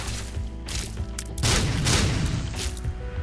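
Explosion effects in The Binding of Isaac video game, a dense, booming burst swelling over game music and sustained for a few seconds before settling back into the steady background.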